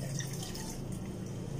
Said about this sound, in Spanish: Y le agregamos el agua